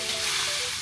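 Pasta sauce with tuyo pasta sizzles and hisses in a hot frying pan as it is stirred, a steady close crackle without speech.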